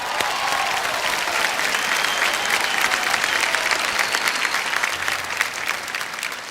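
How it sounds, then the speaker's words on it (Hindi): A large audience at the Filmfare awards ceremony breaks into loud, sustained applause, a dense continuous clatter of hands that carries on without pause and eases slightly toward the end. "जावेद साहब के लिए एक बार जोरदार तालियां हो जाएं"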